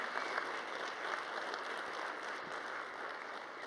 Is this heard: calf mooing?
no